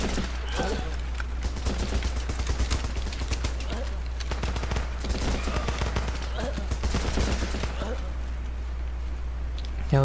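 Rapid machine-gun fire from the Running With Rifles video game, dense repeated bursts crackling loudly across the whole stretch over a steady low hum, with a voice talking intermittently underneath.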